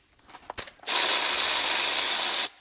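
Ratchet with an Allen 6 bit loosening the fuel rail bolts on a BMW M57 diesel engine, a few faint clicks followed by a steady buzzing whir lasting about a second and a half, close by.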